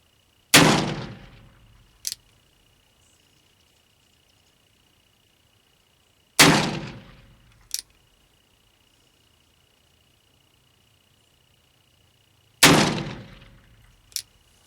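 Three loud, sharp gunshots from a Pietta 1860 Army Sheriff's Model black-powder revolver, spaced about six seconds apart at a range, each followed by a short decaying ring and a faint click.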